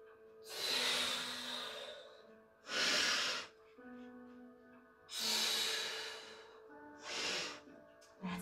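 Slow, deep breaths during a Pilates exercise, with four long breathy exhalations and a quicker fifth at the end, each a soft airy whoosh, heard up close and fairly quiet with no talking.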